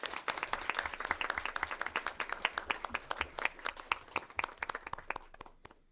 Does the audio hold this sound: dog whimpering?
no